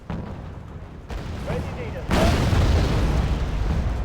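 Heavy bombing and artillery explosions from a Wargame: Red Dragon battle during a naval invasion of North Korea, a low rumbling roar that swells in two steps and stays loud and dense to the end.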